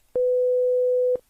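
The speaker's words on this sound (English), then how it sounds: "So we can listen to 1 second of a sine wave" A pure sine wave tone holds one steady pitch for exactly one second, starting and stopping abruptly, loud and clean against near silence.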